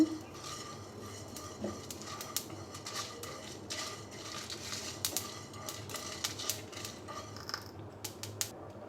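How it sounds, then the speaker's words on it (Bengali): Quiet, irregular crackling and light clicking of fennel and whole coriander seeds frying in a pan, with occasional scrapes as they are stirred. "এবার দিয়ে দেবো আমি মৌরি আর দিয়ে দেবো গোটা ধনে এগুলোকেও ভেজে নেব একটু"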